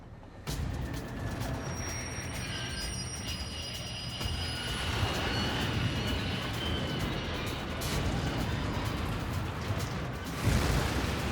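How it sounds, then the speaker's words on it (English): A 400-ton train rumbles steadily as it pulls away from a platform at London Paddington station, a low continuous roar with faint high squeals, with no talking. "as the train departs, something begins to go wrong"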